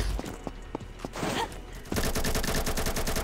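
Rapid automatic gunfire in the online shooter Combat Master, with scattered shots at first, then a dense, sustained burst of fire in the second half, loud and close.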